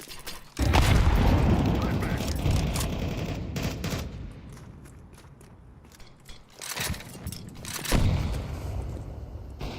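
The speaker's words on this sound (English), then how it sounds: "I'm throwing a flashbang." A flashbang pops amid gunfire in Counter-Strike 2, with two loud bursts of blast and rattling fire separated by a calmer stretch of mechanical game noise.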